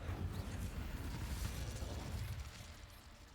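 Incendio fire spell cast in Hogwarts Legacy, a dense, broad whooshing burst of flame that roars for a few seconds and then tapers off, with no talk.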